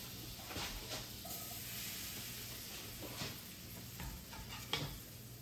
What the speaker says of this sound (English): We're just going to cook up our potatoes a little bit